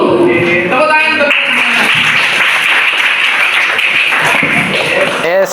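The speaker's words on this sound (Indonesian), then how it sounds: "Tepuk tangan." Children clap their hands together in a classroom, a loud burst of group applause, close and continuous, with voices and chanting at the start and near the end.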